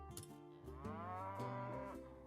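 A burden beast in the video game Arknights gives a low, drawn-out moo with a sliding pitch, clear and alone.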